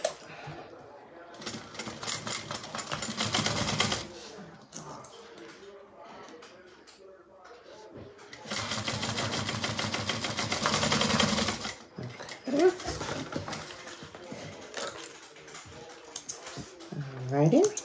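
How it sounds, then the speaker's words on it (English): A sewing machine sews a seam with a 3/8 inch allowance on a bag: two sustained whirring runs of a few seconds each, close and fairly loud, with a person talking in the quieter gaps between them. "we're going to sew this together with a 3/8 inch seam allowance."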